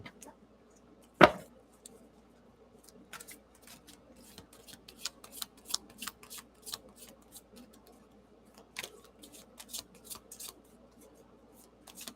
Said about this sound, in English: Shuffle these cards up just a little bit.